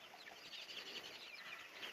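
Chickens cluck softly from a flock newly bought at an auction, with a faint, continuous murmur of overlapping clucks heard at a distance.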